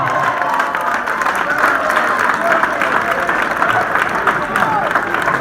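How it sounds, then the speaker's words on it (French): An audience at an outdoor youth slam poetry school tour event claps steadily, a dense, continuous wash of applause with some crowd noise and faint voices mixed in. "le public qui applaudit"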